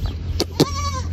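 A male goat bleats close by on a farm in Thal, giving a short nasal wavering cry after two brief knocks, heard alone against a low steady hum.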